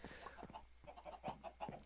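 Chickens clucking in the Minecraft video game, a string of short, fairly quiet repeated clucks in an uneven rhythm with no talk over them.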